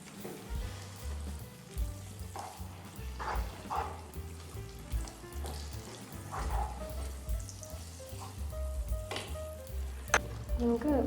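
Carrot halwa being stirred with ghee in a pan gives a soft, continuous sizzle with scattered scraping and clinking of the spoon, close and moderately quiet, with a brief sharper clatter near the end.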